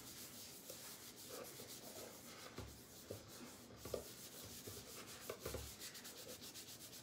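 Wax is rubbed onto a surface by hand in quiet, repeated back-and-forth strokes, a soft brushing scrape with a few firmer swipes.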